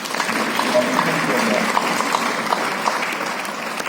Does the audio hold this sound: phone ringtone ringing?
no